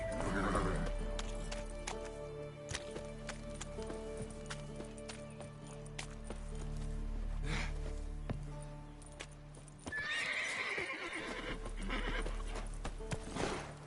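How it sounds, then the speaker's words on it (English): Roach, a horse in The Witcher 3 video game, neighs and whinnies over steady clip-clopping hooves as it trots, set against a layered game soundtrack and ambience, with a louder whinny surge near the end. "Come on, Roach."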